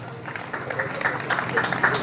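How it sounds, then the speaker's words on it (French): A French audience claps along at a podium inauguration, a steady patter of applause mixed with crowd voices and chatter, moderately loud throughout. "On applaudit encore."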